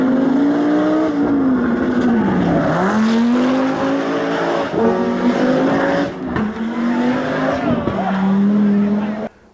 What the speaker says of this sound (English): A 5-cylinder engine instead produces a perfect third interval